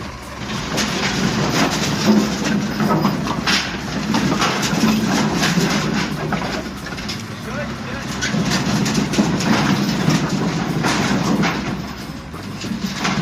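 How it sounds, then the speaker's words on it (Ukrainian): A truck's engine runs steadily and loudly as its bed rises to dump oak firewood in Chervoni Hory, with people talking over the rumble and birds faintly audible. "І це як він високо піднімається. Щоб висипати дрова отакі."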